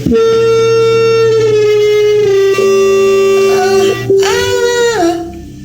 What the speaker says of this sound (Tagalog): Tila feedback ng mikropono ang pumupuno sa aking pandinig.